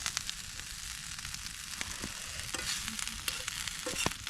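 Food roasting with garlic salt in a pan on a tent stove in the snow, giving a steady, dense sizzle with scattered crackles and a few sharper pops, close but moderately quiet, with no voices.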